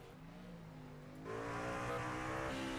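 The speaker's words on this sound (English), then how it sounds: "Got Brian Beach, your race winner, burning it down. There he is. Looking for those burnouts, my man." A race truck in the iRacing video game does a burnout at Atlanta Motor Speedway, its engine rising from a revving drone to a louder sustained roar with tire squeal and skidding noise, close up and without voices.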